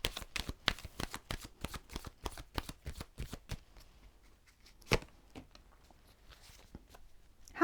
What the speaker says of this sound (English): God, it's really hard to choose your obstacle cards.